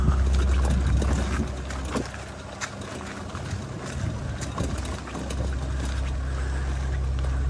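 Steady motorboat engine drone on open water, with wind buffeting the microphone throughout and the hum holding loud and continuous without talk.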